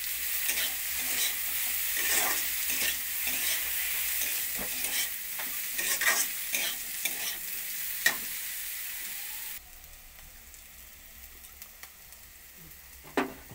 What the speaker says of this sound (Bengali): বাঁধাকপিটা দিয়ে আবার ভেজে নেব